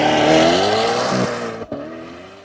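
A Chevrolet Corvette C8 ZR1 with a loud aftermarket exhaust revs hard up close, its engine note rising and falling, then snapping off in a brief lift-off gap before resuming.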